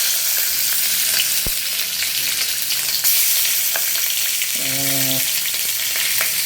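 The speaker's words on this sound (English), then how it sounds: "Having a hot wok, the shrimp would have cooked almost instantaneously." Shrimp hitting a very hot wok for pad thai give a loud, steady, hissing sizzle that runs without a break, with a short tonal blip partway through.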